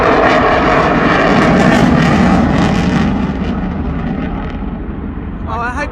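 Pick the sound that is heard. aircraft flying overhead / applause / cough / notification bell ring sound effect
aircraft flying overhead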